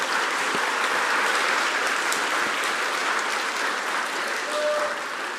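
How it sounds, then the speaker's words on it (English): An audience at a communications speech competition claps steadily for the contestants, a continuous wash of applause at moderate level that barely fades over several seconds. "Let's give them another round of applause."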